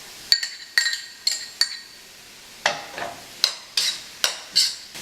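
Cooked brown rice being added and stirred in a Saladmaster 12-inch chef pan, a series of sharp metallic clinks and scrapes from a utensil against the pan, about ten distinct strikes over a faint sizzle.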